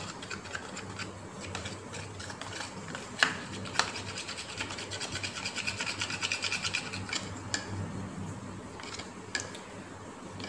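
A spoon stirs a turmeric face pack paste mixed with rice-cooking water in a bowl, making a steady, close scraping rub with a few sharper knocks against the bowl.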